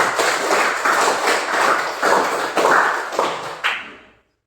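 An audience claps for a few seconds in a swelling and ebbing round of applause that fades out at the end, moderately close, with no talking over it.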